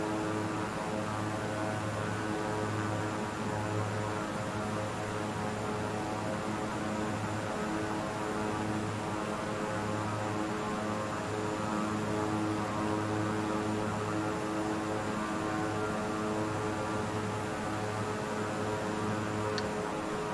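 Single-engine propeller airplane in Microsoft Flight Simulator 2020 flying near Laguna Seca in a slow, easy descending turn; a steady, constant drone with a low engine hum runs throughout without any talk.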